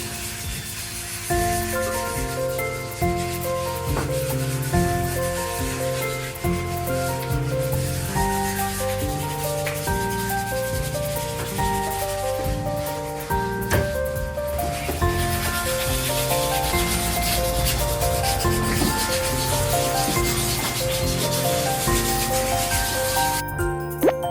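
Steady, continuous rubbing and scraping of sanding pottery clay runs throughout, softly hissing beneath background music.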